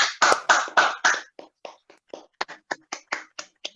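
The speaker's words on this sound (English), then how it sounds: "can we have a real big round of applause by unmuting ourselves for Toastmaster Benjamin?" Online meeting participants unmuting to applaud, producing sparse, distinct claps and hand sounds picked up through separate microphones, close and dry with gaps of silence between bursts.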